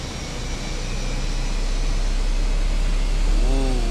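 IAE jet engines on an airliner in a 737 flight simulator game, a steady loud roar with deep rumble throughout, a faint tonal warble near the end, no talking.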